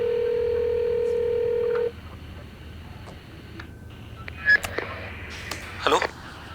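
A steady telephone tone sounds for about two seconds, then stops, followed by faint clicks and a few short beeps like buttons being pressed on a phone.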